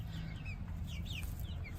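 A white, fluffy, non-bearded porcelain silkie hen in a backyard homestead flock gives soft, faint clucks and chirps. They sit over a steady low rumble of outdoor background noise.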